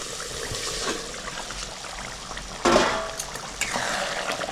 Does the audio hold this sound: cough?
no